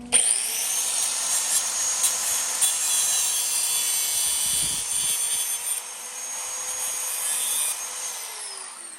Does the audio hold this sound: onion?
no